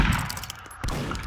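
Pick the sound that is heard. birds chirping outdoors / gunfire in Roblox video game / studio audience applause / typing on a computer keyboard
gunfire in Roblox video game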